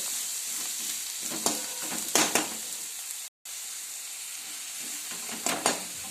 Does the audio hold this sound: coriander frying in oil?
yes